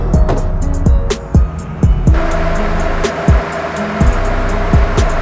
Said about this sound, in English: I think that pretty much gives you guys a pretty good idea about what my exhaust sounds like now